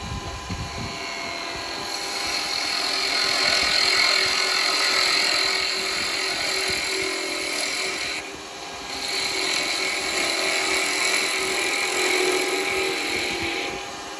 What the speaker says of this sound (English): It's a nice little spindle gouge this one.